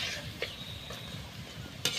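Banana fritters made with ripe bananas frying in hot oil, a soft steady sizzle with a few brief clinks and stirring scrapes of a utensil, close and fairly quiet.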